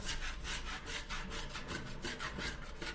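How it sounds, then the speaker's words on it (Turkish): A metal spatula scrapes softened paint off a granite, marble or wood kitchen countertop after a paint stripper has been applied, making steady rhythmic rasping strokes that repeat about every quarter second, close and fairly loud with no talk. "spatula ile kazıyacağım. Şimdi kazırken nasıl gözüküyor kazma sırasında onu çekiyorum."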